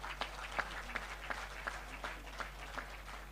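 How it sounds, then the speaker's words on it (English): An audience at a rugby union awards ceremony applauds the rugby sevens team, with rhythmic, fairly distant clapping in a steady pulse and no voices over it. "I want us to clap for this Rugby 7,"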